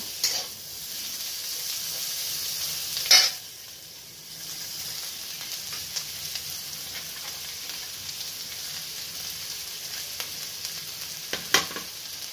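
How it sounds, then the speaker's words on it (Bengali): Shredded cabbage frying in a pan for chicken chow mein hisses steadily, broken by a few sharp scraping stirs near the start and again near the end. "তো বাঁধাকপিটাও একটু নাড়াচাড়া করে নেব।"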